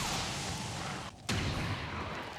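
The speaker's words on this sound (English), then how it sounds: "1 with the pistol and 2 with the sniper rifle" A sharp gunshot cracks out in XCOM 2 over a constant rushing game ambience, a single loud report after a brief dip, from a pistol or sniper rifle.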